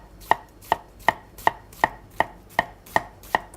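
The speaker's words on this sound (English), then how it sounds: "And then you just gently start dicing." A kitchen knife dices an onion on a cutting board in a commercial cooking setting: nine crisp, evenly spaced chops at a steady moderate rhythm, close and clear with no talking.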